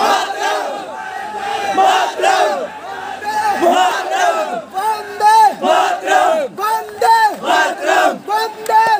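A large crowd of cricket fans at NIT Jalandhar gathers for an India–Pakistan match, roaring and chanting loudly in rhythmic bursts that grow more pulsing and regular toward the end.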